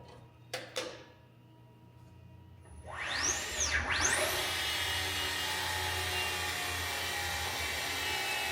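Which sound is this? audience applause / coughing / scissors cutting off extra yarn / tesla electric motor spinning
tesla electric motor spinning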